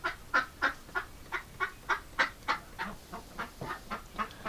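Ducks crowded in a coop beside a nesting box give a steady run of about fifteen loud, evenly spaced quacks and squawks, close by and with no talking.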